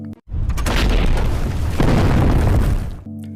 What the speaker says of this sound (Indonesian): Pertempuran pun dibuka dengan tembakan senapan anti-tank dari tentara Uni Soviet